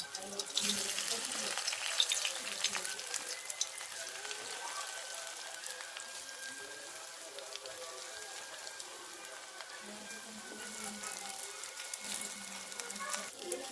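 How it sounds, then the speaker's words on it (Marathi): Bottle gourd vadi pieces fry in hot oil with a dense, even crackle like rain on a surface, continuing steadily at moderate volume with a faint voice at times. "आता आपण हे तेलात परतून घेऊया"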